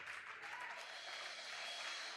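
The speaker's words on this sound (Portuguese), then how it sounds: "Pode aplaudir ao Senhor." A church congregation applauds during a sermon, a steady, dense wash of many hands clapping that holds evenly for a couple of seconds at a modest, somewhat distant level.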